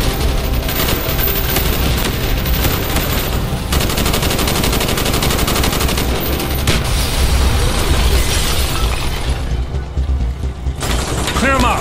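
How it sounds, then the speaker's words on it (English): Dense, continuous gunfire from the Call of Duty: Black Ops campaign fills a street battle, with rapid automatic bursts, shotgun blasts and booms layered over battle noise and shouted voices throughout. "Bowman, Carlos, lay down covering fire."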